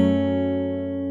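A fingerstyle acoustic guitar rings out an opening roll, one brief sustained chord with several plucked notes blending and slowly fading, close and clear.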